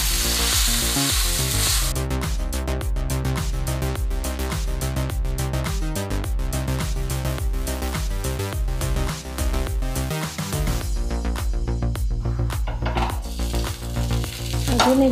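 Sabudana thalipith fries in ghee on a pan with a loud, steady sizzle and crackle, close and continuous, with occasional scraping as it is turned.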